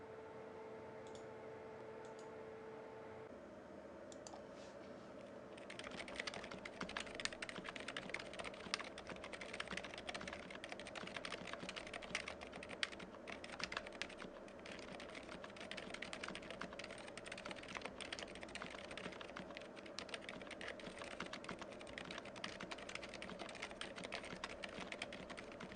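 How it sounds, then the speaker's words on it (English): Fast, continuous typing on a Cannonkeys AN-C mechanical keyboard in a Sentraq 60 case, with quiet, dense key clicks at close range over faint background hiss and a brief tonal sound at the start. "Let's do a typing test."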